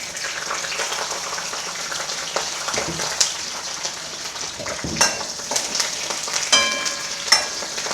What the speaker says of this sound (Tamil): அடுத்து கருவேப்பிலை அதுக்கு நெக்ஸ்ட்டு பூண்டு போட்டுடணும்